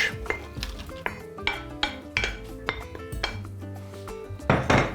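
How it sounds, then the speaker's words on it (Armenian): Seasoned mushrooms for a meat and mushroom lasagna tumble into a pan, giving a run of clattering knocks and clinks of utensils against cookware, close and moderately loud with no talking. "Լցնում ենք տապակի մեջ։"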